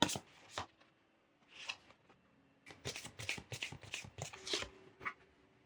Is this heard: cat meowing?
no